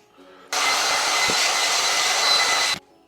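A heat gun blows steadily while warming the 3M adhesive tape behind a car emblem on a BMW G80 M3 or G82 M4, a broad, even hot-air rush that starts abruptly, holds for about two seconds, then cuts off.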